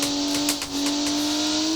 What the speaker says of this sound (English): enjoying the sound of the engine.